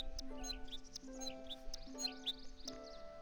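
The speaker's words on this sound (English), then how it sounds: "I love the sounds the sparrowmints make." Sparrowmint chirps in the video game Viva Piñata, a string of short, bright, squeaky cheeps repeating over soft sustained musical tones, fairly quiet and without talk.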